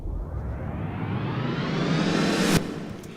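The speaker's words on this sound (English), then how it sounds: "ramped speed up effect." A dense audio sample under a ramped speed-up effect plays alone, accelerating and rising in pitch over about three seconds before a sharp transient near the end, then cuts off.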